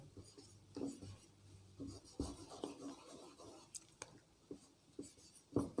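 Pen writing on a paper map during a geography map-work lesson, near and close to the microphone: short scratchy strokes in irregular bursts, with a faint background hum and no talk over it.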